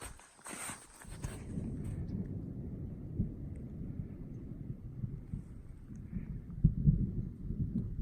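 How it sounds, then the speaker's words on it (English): Distant thunder rumbles low and steady for several seconds on a wet mountain hiking trail, with faint wind noise and a brief rustle near the start, no voices. "Just heard some thunder."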